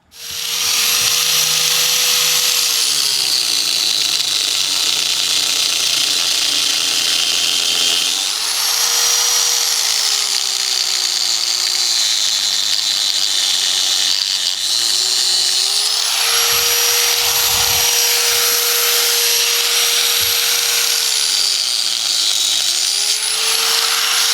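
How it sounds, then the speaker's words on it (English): A bone saw cuts off deer antlers at the base, a loud continuous high-pitched whine whose pitch dips and rises as the blade bogs down in bone and frees up again. "cut them off right there at the base with my bone saw"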